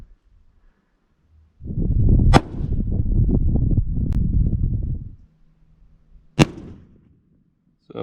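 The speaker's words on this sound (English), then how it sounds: "we're just shooting our rifles one last time before we get out there" Rifle fire at outdoor target practice before a Nevada mule deer hunt: two sharp, loud shots several seconds apart, with a sustained rumbling roar between them.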